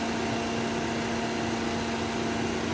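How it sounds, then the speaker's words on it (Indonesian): A 2022 Mitsubishi Xpander's 1.5-litre four-cylinder engine idling with the air conditioning running, a smooth, steady hum with a constant tonal drone and no voices. "Dan seperti ini suara di mobil Xpander tahun 2022."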